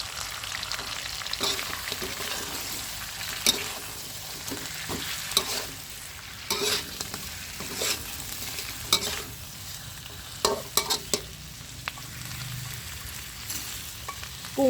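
Shrimp stir-fried in a pan over medium heat, garlic oil from earlier frying, a continuous sizzle broken by repeated scraping and clacking of a spatula against the pan at an irregular rhythm, close up, no talking.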